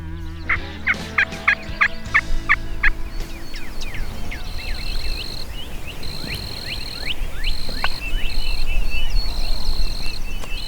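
Wild turkeys gobble at a Texas roost, with a run of rapid, loud gobbles near the start and fainter gobbles later, over steady insect and cricket chirping and other bird calls outdoors.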